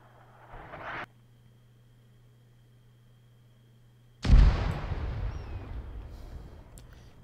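155 mm artillery fire support in the Zeus game mode: a short rumble, then a loud, close, heavy explosion whose boom decays slowly over several seconds.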